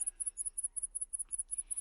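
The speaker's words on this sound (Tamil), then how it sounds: "ஆனா நிறைய வெட்டுக்கிளிகள் இருந்ததால அவரால் எல்லாத்தையும் விரட்ட முடியல" A swarm of grasshoppers in a rice field in a cartoon story chirrs as a steady insect trill, rapid high-pitched pulses repeating evenly about every tenth of a second, constant and alone without voices.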